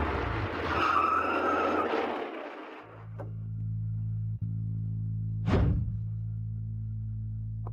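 A car brakes hard and skids to a stop on a road, a loud broadband tire screech of a few seconds that cuts off into a steady idling hum, then a short whoosh passes.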